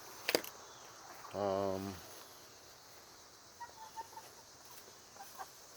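A single short clucking call from a chicken, nearby, followed by faint scattered bird chirps over low background noise.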